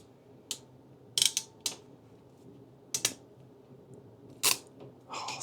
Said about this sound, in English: So our negative and our positive, and we will use our ratcheting crimpers.